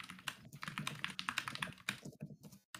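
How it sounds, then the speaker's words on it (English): Rapid, frantic typing on a computer keyboard during an online typing race, dense bursts of clicking keystrokes with brief pauses, heard close and alone without speech. "I can just hear someone's keyboard. They're going crazy."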